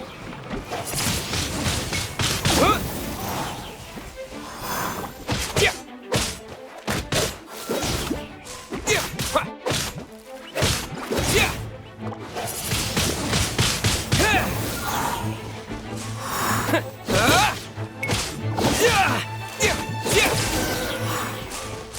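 Video game combat in Genshin Impact with wind attacks: a dense run of whooshes, smashes and thuds in rapid bursts, loud and close over a game soundtrack, with brief gaps between flurries.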